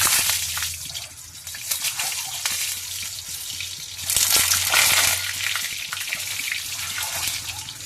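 Eggs fry in hot oil in a pan with a bright, continuous crackling hiss that swells louder midway and then settles, with no voices.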